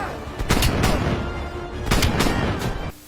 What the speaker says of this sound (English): And it is just like one shot or like an echo of one shot.